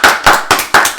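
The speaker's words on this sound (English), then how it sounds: "Let's give a round of applause for Han and Chris for coming on the show tod" Five loud, close, evenly spaced hand claps ring out alone in about a second, a small round of applause for guests on a podcast.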